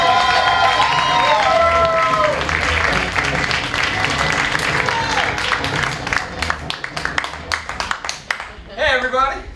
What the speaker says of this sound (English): please give a round of applause for MoReese Likorish.